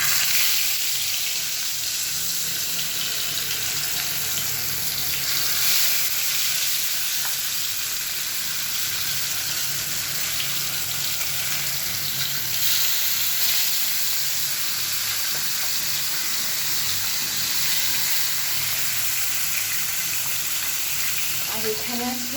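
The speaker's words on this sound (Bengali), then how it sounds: "এখন আমি মাছ ভাজা করব।" Fish sizzles in hot oil, a dense, continuous hiss of frying that holds steady and fairly loud the whole time, with no voices.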